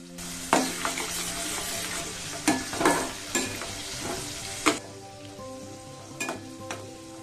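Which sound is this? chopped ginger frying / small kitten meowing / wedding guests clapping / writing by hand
chopped ginger frying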